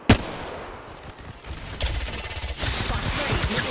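Rapid automatic gunfire in a shooter video game, bursts of shots crackling amid game noise, with a brief voice line under the firing.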